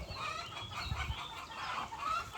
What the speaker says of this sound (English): My chickens are having a competition, it sounds like.